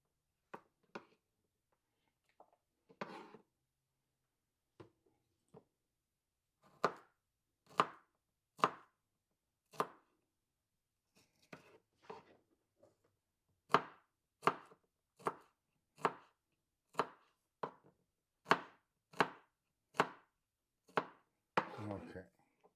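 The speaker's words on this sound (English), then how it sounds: "I'm just going to cut up a little garlic here." Knife chopping garlic on a cutting board: sharp, evenly spaced knocks, sparse at first and then a steady run of close, crisp chops, with no talking.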